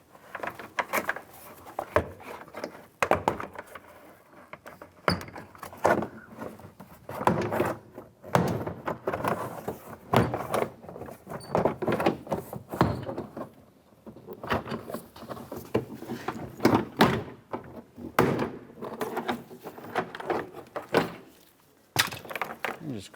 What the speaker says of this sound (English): using a trim tool, we're going to pop the door pins out all along the perimeter of the door panel